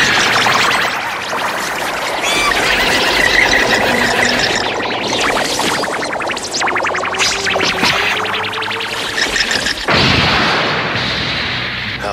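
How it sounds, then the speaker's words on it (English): Explosions of invisible monster bombs in a Yu Yu Hakusho anime fight, heard as loud, close blasts and crackling bursts in quick succession, mixed with whooshing effects and a final heavy boom. "You create monsters that act as invisible bombs."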